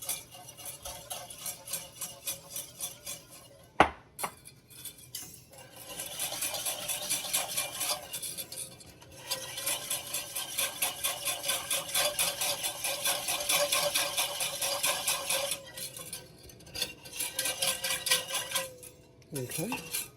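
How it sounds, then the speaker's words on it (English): Whisking milk into a roux in a small pan, rapid rhythmic metallic scraping in long bursts separated by pauses, close up, with a sharp clink early on and occasional talk in between. "I'm going to whisk it in"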